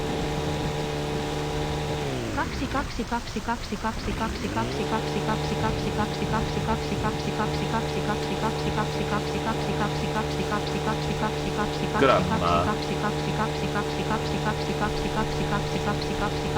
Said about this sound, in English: Your engine sounds fucked.